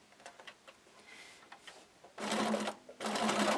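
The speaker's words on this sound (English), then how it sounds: "go ahead and sew our ruffle to our top fabric" Sewing machine stitching a ruffle onto top fabric for a blanket, starting with a few soft ticks and clicks, then running in two loud, steady bursts of fast whirring stitches separated by a short pause.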